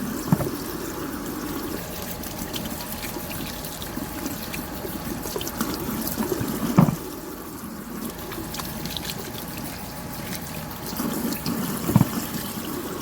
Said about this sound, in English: so I'm washing my mango again